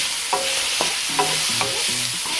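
Chicken pieces fry with soy sauce in a pan for chop suey, giving a soft steady sizzle under a constant hiss, broken by a few light stirring knocks.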